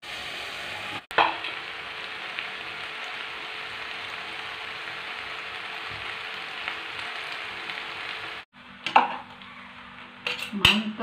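Egg, onion, chili and tomato stir-fry in a pan for a macaroni and cabbage dish, giving a loud, steady sizzle close by, broken by sharp metal utensil scrapes and clinks against the pan near the start and end.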